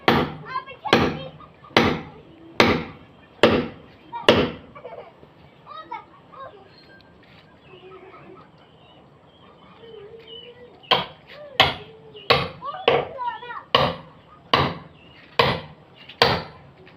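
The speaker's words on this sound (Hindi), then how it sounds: "लकड़ जो मैंने अभी तोड़ी है हथौड़ा और छेनी के साथ" Wood being broken with a hammer and chisel: a series of sharp, loud, evenly spaced strikes, a quieter pause with faint background sounds and voices, then a second run of blows.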